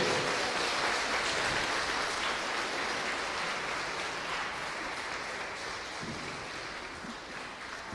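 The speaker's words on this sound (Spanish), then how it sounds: "le damos un fuerte aplauso a Dios" Applause rises from a church congregation at a Mass, a broad, steady wash of many hands clapping that fills the room and slowly tapers off.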